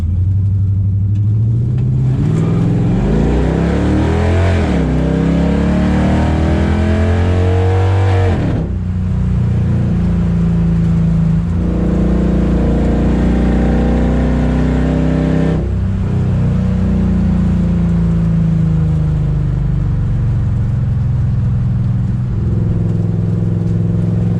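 A 1968 Dodge Charger with a swapped 5.7 Hemi V8 and NAG1 automatic accelerates hard. The loud, close engine roar climbs in pitch, drops at each gear shift and climbs again through several gears, with no talk.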